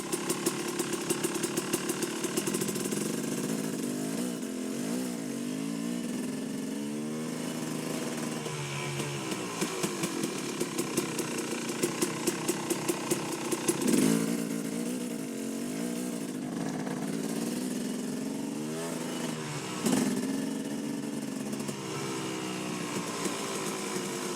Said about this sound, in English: Come to a complete stop with no clutch. Flick it into second gear.